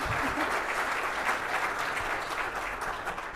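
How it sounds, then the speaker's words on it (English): An audience applauds speakers at the close of a tech stack talk, a steady dense wash of clapping filling the whole stretch without voices. "let's give our speakers a round of applause."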